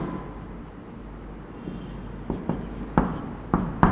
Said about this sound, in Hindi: मैं यहाँ एक कंपाउंड लिखता हूँ